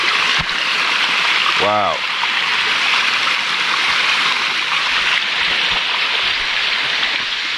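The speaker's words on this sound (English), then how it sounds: "All this water is just leading into here, drenching down." Water from a stream flows and drenches down steadily into a spot near Minca, Colombia, a loud continuous rushing close by, with a brief exclaimed voice early on.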